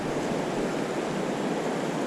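Rushing water of the Truckee River in California pours past a fishing spot, a loud, dense, unbroken roar close to the microphone.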